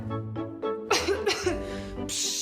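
Several harsh coughs in quick succession, close and loud, some with a rasping, wet quality, ending in a breathy exhale.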